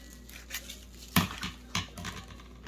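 Cutting freshly harvested garden herbs, several sharp snips and crisp rustles in a quiet room, with two louder cuts standing out among softer crinkling handling sounds.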